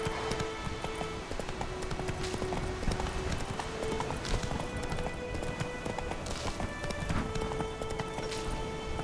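In The Witcher 3, the horse Roach runs at a fast pace, hooves clip-clopping rapidly and evenly over steady ambient background noise for the whole stretch.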